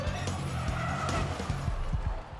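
Formula E race car on the tight Hong Kong street circuit, tires skidding and squealing with a steady motor whine, loud and continuous for a couple of seconds.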